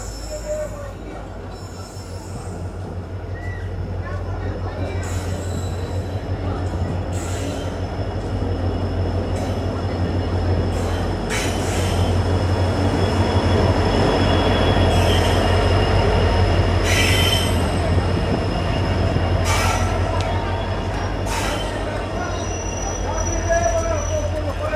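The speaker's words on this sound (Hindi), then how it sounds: "और हमारी ट्रेन भी आ चुकी है।" A passenger train arrives at an Indian station on the Parbhani–Nanded line, rumbling in with rhythmic wheel clatter and metallic squeals, loud and close, as crowd voices murmur around it.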